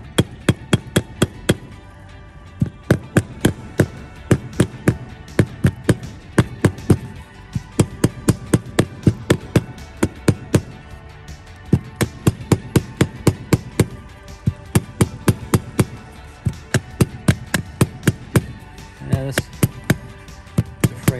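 A machinist hammer strikes metal again and again in quick bursts of sharp ringing blows, with short pauses between the runs.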